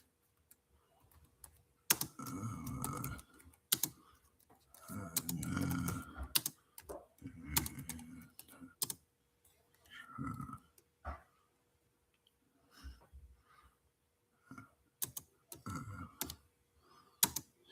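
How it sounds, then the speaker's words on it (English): Typing on a computer keyboard in a garage: close, irregular bursts of rapid clicking separated by short pauses, fairly quiet overall. "I'll type it out"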